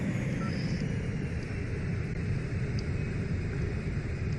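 Airplane engine in the flight game Extreme Landings: a steady, loud broadband drone and rumble that holds evenly through the whole stretch, with no talk over it.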